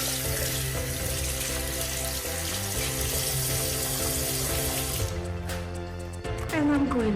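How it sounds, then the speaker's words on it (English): A tap running into a sink during handwashing in a pub in Farnham: a steady loud rush of water that thins out near the end, with faint background music and chatter underneath. "like I tried to wash my hands"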